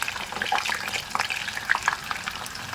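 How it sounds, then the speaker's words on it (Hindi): Chicken and vegetable spring rolls fry in hot oil with a close, busy crackle and bubbling, popping spatters scattered over a steady hiss, no voices. "अब इसको मैं फ्राई कर लेती हूँ"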